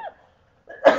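A single sharp cough close to the microphone, coming after a brief quiet stretch.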